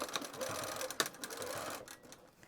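Sewing machine stitching the side seam of a fabric pouch, a steady quiet mechanical whir with light ticking and a brief sharper knock partway through.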